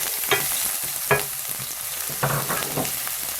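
Onion fries in a little oil in a pan while being stirred, a steady sizzle punctuated by several sharp scraping strokes at irregular intervals, close and clear.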